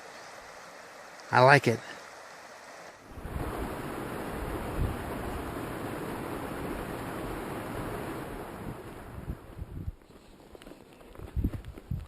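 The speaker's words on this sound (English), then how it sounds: "The sound of running water." Stream water running steadily along a trail in the Sequoia National Forest and South Sierra Wilderness near Kennedy Meadows, a continuous close rushing wash with a person speaking briefly before and after.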